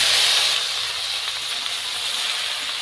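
Okra tipped into lightly fried onions in hot oil hisses and sizzles steadily, loudest at the start and settling into an even crackle, with no talking.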